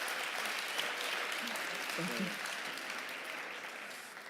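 An indoor audience at a startup pitch event claps steadily for the MCs, the applause sustained and fairly loud throughout while a presenter briefly speaks over it.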